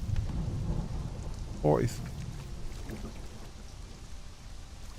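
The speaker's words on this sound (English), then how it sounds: "Oh, it's just a thunder rumble." Thunder rumbles low and distant under steady rain in the Conan Exiles game, with a short sharper crack in the middle; a quiet bed of rainfall continues throughout.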